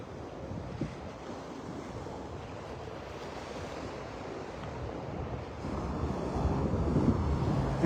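Waves break continuously onto a shallow beach at Pelican Bay, Florida, a steady wash of surf mixed with wind noise on the microphone, growing louder toward the end.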